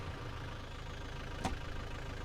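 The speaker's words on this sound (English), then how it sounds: "engine on." A heavy truck engine idles in the Snowrunner video game, a steady low rumble with a brief rise partway through and no talking.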